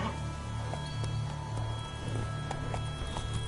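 Roach the horse gallops in The Witcher 3, with steady, close hoofbeats running continuously under a low ambient hum.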